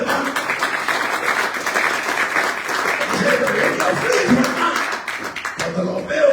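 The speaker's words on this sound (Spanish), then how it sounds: "Dele un mejor aplauso al Señor si puede" A church congregation applauds during a sermon, rhythmic clapping mixed with voices and crowd noise, steady and fairly close, with people talking and calling out over it.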